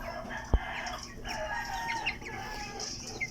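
Buff USLK chickens from a first backyard hatch cluck and chirp softly in a pen, with scattered calls over a low background and one brief knock.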